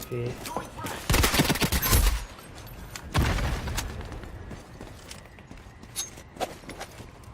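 A P90 submachine gun fires in the video game IronSight in two rapid bursts at close range, followed by quieter scattered shots and light footstep-like taps.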